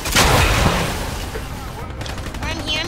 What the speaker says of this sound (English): Help, a man is shooting at me.